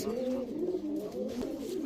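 Highflyer Giribaz pigeons coo in a low, steady, rolling murmur, several overlapping calls running continuously close by with no voices.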